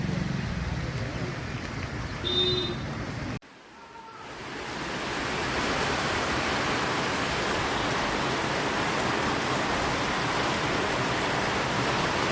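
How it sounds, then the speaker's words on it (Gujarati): Light rain falls on a flooded Gujarat village road as a dense, steady wash of noise. It breaks off abruptly partway through, then swells back to a constant rushing hiss. "હાલમાં થોડું ઘણું વરસાદ રહ્યો છે, સામાન્ય સામાન્ય છોટા પડી રહ્યા છે."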